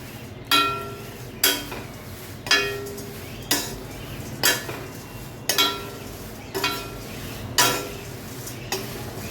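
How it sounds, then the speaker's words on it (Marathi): Thin poha being dry-roasted in a kadhai, stirred with a metal spoon that scrapes and clinks against the pan in regular strokes roughly every second, with a faint sizzle underneath; close and fairly loud, no voices. "आता ही दुसरी बॅच मी कढईत टाकली आहे ती पण मी व्यवस्थित भाजून घेते"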